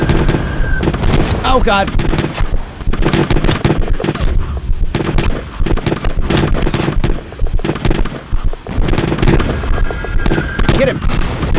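Rapid gunfire bursts in a horror video game, loud repeated shots and booms through most of the clip, with a player talking and exclaiming over them.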